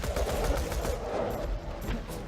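Rapid SMG fire in Borderlands 2, a dense continuous burst of shots close and loud for a couple of seconds, no talking.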